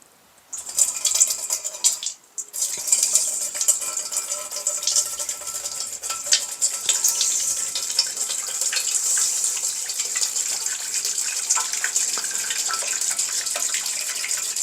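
Liquid pouring steadily out of an antique fire extinguisher after the plug comes out, a continuous bright splashing gush that starts abruptly, stops briefly, then runs on evenly.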